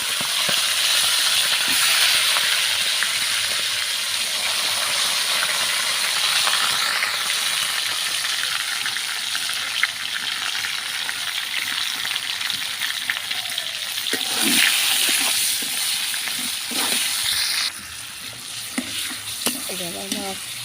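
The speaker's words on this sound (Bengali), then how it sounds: "এখন আমি মাছ সব কিছু দিয়ে কষা।" Rohu fish head sautéing with spices in a hot pan, a steady loud sizzle and frying hiss with occasional stirring scrapes, continuous throughout without talk.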